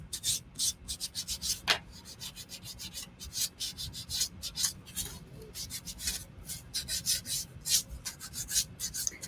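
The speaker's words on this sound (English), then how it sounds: "we just take our trusty sandpaper and we go back around" Sandpaper rubbing around the edges of a small wooden bunny, a fast rhythmic series of close, scratchy strokes with brief pauses, continuing steadily without any talking.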